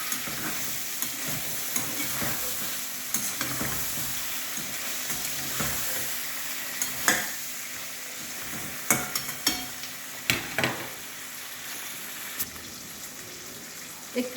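Pointed gourd and onion frying together in a pan, a steady oily sizzle running throughout with scattered sharp clicks and scrapes of stirring, close and unaccompanied by talk.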